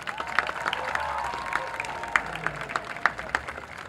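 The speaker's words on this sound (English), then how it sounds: "A loud round of applause for Lucy Rasicki and Nathan Coates." Applause from a crowd at a high school football game, Hanover vs Holy Redeemer, heard as a steady wash of clapping with several sharper individual claps standing out, moderately loud and somewhat distant-sounding.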